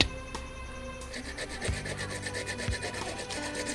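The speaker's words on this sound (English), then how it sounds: "Actually, the manioc is firmly scraped." A hand tool scrapes raw manioc firmly in repeated rasping strokes, a close, loud, steady grating with a rhythmic back-and-forth texture and no talking.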